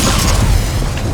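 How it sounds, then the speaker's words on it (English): A grenade explosion in a video game, a loud continuous low rumbling boom filling the brief moment without a distinct onset. "nice grenade"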